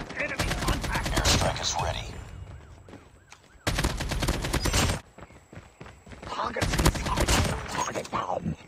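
AK47 automatic fire in the mobile shooter Call of Duty Mobile, loud rapid bursts in three main volleys with short pauses between them, near and dominant with no talking.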